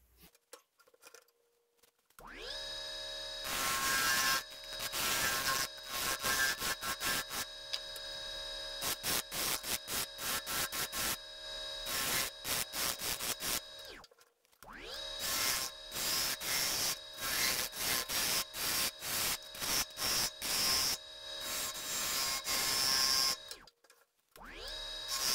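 A lathe turns a bowl of unknown wood while a tool cuts into it, giving rapid scraping, chattering bursts in repeated passes with short pauses between, close and fairly loud.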